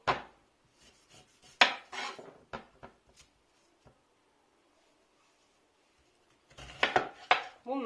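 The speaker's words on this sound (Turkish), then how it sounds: "kelek kavunları doğruyorum." Knife cutting unripe kelek melons into quarters for pickling: a few close, sharp cuts and board knocks, a quiet pause, then a cluster of clattering kitchen sounds.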